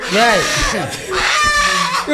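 A rooster crow is heard during a Tamil village stage drama, one loud, close call with rising and falling harmonics, surrounded by a busy, echoing performance space.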